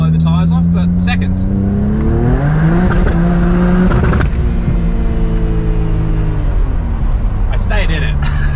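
BMW with an N54 engine on hybrid turbos pulls hard under full throttle in second gear, the engine roaring up through the revs as the tyres spin, then bouncing off an aggressive limiter; loud and close, with voices talking over it.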